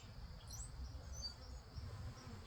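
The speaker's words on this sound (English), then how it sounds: "Well, I'm letting bees out everywhere." A dense, steady buzzing of many honey bees being released from a package fills the clip, close and continuous with no talking.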